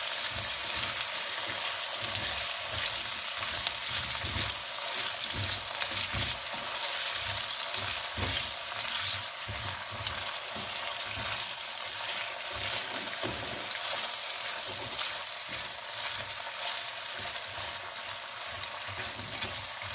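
Red potatoes frying in a pan produce a loud, continuous close-up sizzle and crackle, with occasional soft stirring scrapes beneath the dense frying hiss.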